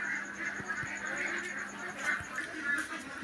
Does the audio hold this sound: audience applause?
no